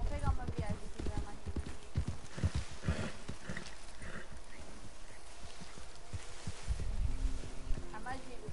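Horse hooves clip-clopping in the Red Dead Redemption video game, a steady rhythmic clatter under game sounds, with people talking over it.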